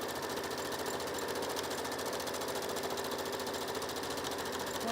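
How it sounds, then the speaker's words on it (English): A sewing machine runs steadily, top-stitching a beach bag handle with a continuous, even mechanical whir that stays close and constant with no pauses. "So I'm gonna stitch down to the end of the handle."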